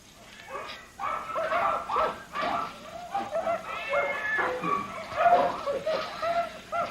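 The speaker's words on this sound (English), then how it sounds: "my dog Spot met this other dog named Fifi, and they sort of got together" Dogs bark and whimper in short bursts, close and moderately loud, with yips and whines scattered across the few seconds.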